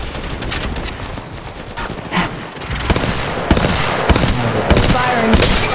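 Rapid automatic gunfire fills a match of Apex Legends Mobile, a close, loud barrage of fast bursts and sharp single cracks. Quick voice callouts sound over the shooting.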